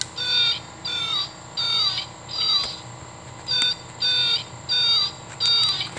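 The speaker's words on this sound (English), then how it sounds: "this is the greater roadrunner right here" A Wild Republic Audubon plush greater roadrunner toy plays its recorded call, a repeated series of electronic chirping bird notes in short bursts separated by brief pauses, fairly close.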